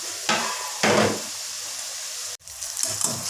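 Potatoes for zinger fries deep-fry in oil on a medium flame, a loud dense close sizzle that swells in bursts as the fries are stirred, with one abrupt cut before the frying noise resumes.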